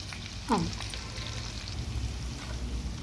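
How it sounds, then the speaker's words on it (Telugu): Bitter gourd pieces and onions fry in oil with a steady crackling sizzle throughout, and a brief scrape or clatter near the start; no talk. "కాకరకాయ ముక్కలు వేగుతున్నాయి చూడండి"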